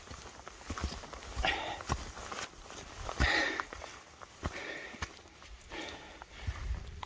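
Footsteps of a hill walker passing on boggy marshland ground, irregular soft crunching treads close by, rising and falling as they go past.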